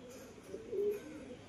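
A male pigeon gives a faint, low coo, one short throaty call standing out briefly over quiet background noise.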